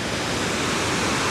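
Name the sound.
Taraabu Waterfalls rushing water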